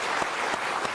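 TV studio audience applauding on a French variety show after a Breton folk band's performance, a full, continuous wash of clapping with a few louder accents.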